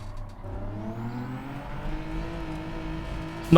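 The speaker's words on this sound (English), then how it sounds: "You see the way the car's revving there?" Race car engine revving and droning through gears in the Gran Turismo racing game, a loud continuous whine rising and falling in pitch with no talk over it.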